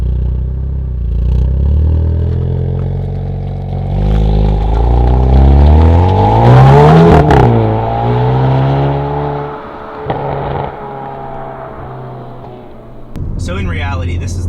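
A 2021 Hyundai Veloster N with a DCT gearbox drives off and accelerates, its engine note rising in pitch through gears with a shift and a settled cruise, loud and close, with a voice heard over it.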